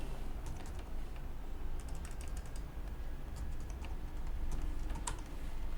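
Someone types text on a computer keyboard while working in Photoshop, giving a run of quick, light key clicks. The clicks are faint and sit over a steady background hiss, with no speech.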